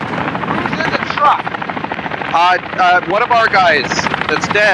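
A helicopter's rotor thrum churns overhead in Call of Duty DMZ beneath excited voices talking over each other, the engine noise constant and close.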